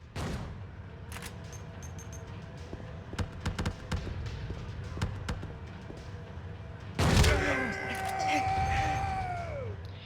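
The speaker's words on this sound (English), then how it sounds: "Let's just finish him off with the shotgun." Shotgun blasts and combat noise from the horror game Silent Hill 2 Enhanced Edition, several sharp bursts scattered over a busy game soundscape, followed by a loud heavy impact and a ringing tonal sound.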